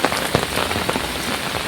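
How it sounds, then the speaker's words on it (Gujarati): Heavy rain pours in a loud, close, unbroken roar, with droplets spattering on a nearby surface. "ખતરનાક વરસાદ વરસ્યો"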